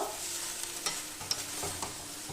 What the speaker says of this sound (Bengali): এবার আমি এর মধ্যে দিয়ে দিচ্ছি টমেটো সস দিয়ে দেব আমি মাছগুলো এর মধ্যে দিয়ে টমেটো সসটাকে একটু ভালো করে মাখিয়ে নেব